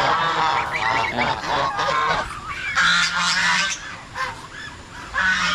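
A flock of geese honking loudly and close in a pen, repeated overlapping harsh calls throughout, with a brief spoken word from a person.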